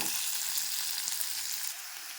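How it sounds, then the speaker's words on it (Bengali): Close, steady sizzling of onions frying in hot oil, a bright continuous crackle that eases slightly toward the end, with no talking. "পেঁয়াজটাকে আমরা ভালো করে ভেজে নেব।"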